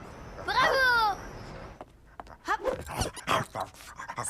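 A dog pants and whines in short breathy bursts early on, then quick rhythmic panting and snuffling continue close by in a family home.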